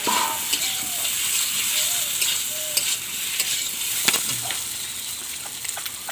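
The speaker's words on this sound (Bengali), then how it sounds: "আমি এখন আলু দেব।" Potatoes sizzle in frying masala as they are stirred, a loud continuous crackle with scraping strokes for several seconds, for a rohu fish curry.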